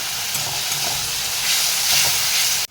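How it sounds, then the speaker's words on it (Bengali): Onion sizzling in a pan for a tilapia curry, a dense, close, continuous hiss and crackle that stays loud throughout and stops abruptly at the end. "পেঁয়াজটাকে আমি প্রথমে ভালো করে ভেজে নিই"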